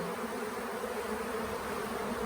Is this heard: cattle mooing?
no